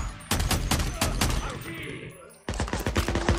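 Rapid bursts of gunfire from the video game Days Gone crack close and loud, with a brief lull in the middle before another volley.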